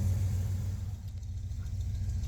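A car engine fitted with a carb cheater runs at a steady idle: a continuous low, rumbling drone, close and even, with no voices.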